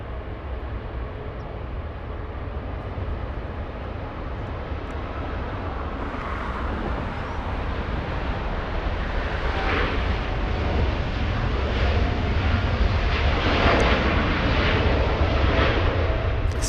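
A heavy three-year-old Boeing 787 Dreamliner bound for Tokyo Haneda takes off at LAX with a steady deep jet roar that builds gradually as takeoff thrust is set, with scattered crackle higher up near the end.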